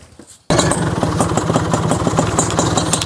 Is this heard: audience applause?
no